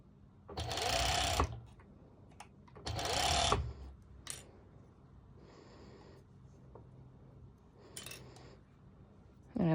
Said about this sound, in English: I'm really careful that I'm not serging over the elastic, and that I'm obviously serging over both parts of my fabric